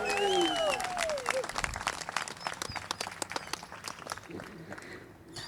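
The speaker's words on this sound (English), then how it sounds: "Can we get a big cheer for our bride and groom?" Wedding guests at a ceremony break into loud applause and cheers for the bride and groom, dense clapping from a close crowd with shouted whoops at the start, gradually easing off.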